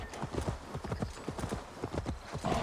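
A horse gallops in Assassin's Creed Valhalla, its hooves drumming in a steady, rapid rhythm of clip-clop beats, moderately loud and continuous throughout.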